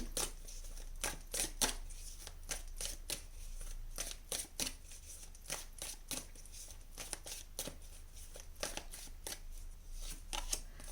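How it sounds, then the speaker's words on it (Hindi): Tarot cards being drawn and handled from a deck, a close, crisp series of rapid flicks and snaps in irregular bursts, quiet and alone without talk. "चलिए यहाँ पे हम 3 कार्ड्स और निकाल लेते हैं आपके लिए for your future group number 2"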